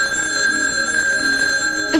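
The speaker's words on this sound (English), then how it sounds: "The phone's ringing." An old-fashioned telephone bell rings in a steady, loud electric trill from a TV sitcom household, sustained throughout with a slight jangle near the end and no voices.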